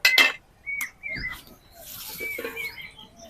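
A metal stand is set down inside a kadai holding water, ready for steaming a cake, giving a few faint, brief metallic clinks and taps against a quiet background.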